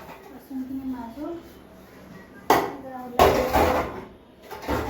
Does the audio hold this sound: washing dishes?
yes